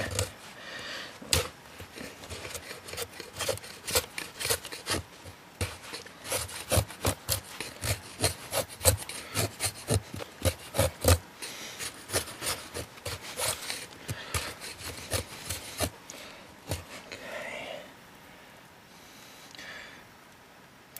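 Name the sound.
knife shaving wood into fine shavings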